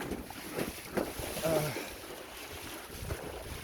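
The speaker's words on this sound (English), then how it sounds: "There's some wind." Wind blowing outdoors near the water in soft gusts and buffeting against the microphone, faint and steady with a slight puff in the middle, with a voice faintly underneath.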